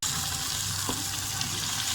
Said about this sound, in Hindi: थोड़ा सा फ्राई हो जाएगा इसमें।